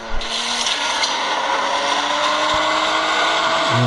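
Car accelerating with turbo in a smartphone racing video game, a steady, loud engine drone with scraping, rasping texture that holds throughout with no talk.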